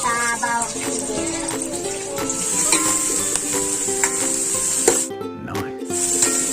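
Garlic sautéing in a pan as the base for monggo, a soft steady sizzle with scattered stirring scrapes beneath a busy home-kitchen background, with music or voices faintly mixed in.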